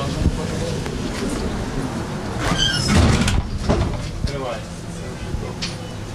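Emergency exit door of a minibus route bus being opened during an inspection, giving a sliding, rattling clunk of moderate loudness over street and wind noise, with people talking nearby.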